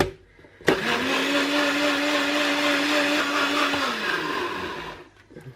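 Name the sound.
blender blending cream cheese smoothie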